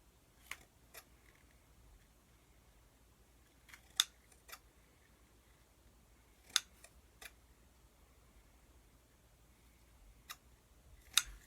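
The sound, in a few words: scissors trimming tape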